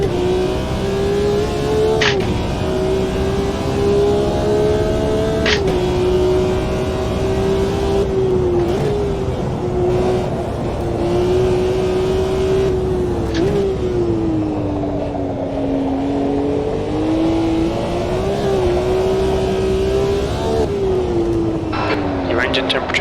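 A BMW M1 Procar in Automobilista 2 drives flat out on the historic 1971 Nordschleife, its engine holding a loud steady high drone with brief dips and pitch shifts as it brakes and climbs back, with occasional talk over it.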